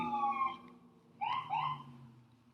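A siren wails at a distance, its tone sliding up and down in a few swooping cycles, fading in and out against quiet background.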